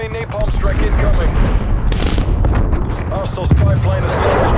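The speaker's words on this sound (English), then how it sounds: "Enemy napalm strike incoming." Napalm strike and heavy combat in Call of Duty Black Ops Cold War: dense, continuous rumbling booms and gunfire-like blasts fill the clip, loud and close, with an in-game announcer voice speaking over the battle.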